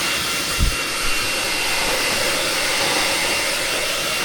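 A hair blower runs steadily, drying hair at close range with a loud, continuous whooshing roar, a couple of brief knocks near the start.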